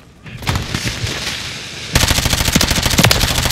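Rapid automatic gunfire in a multiplayer shooter, a loose spray of shots first, then a steady fast rattle of closely spaced rounds that grows louder and continues to the end.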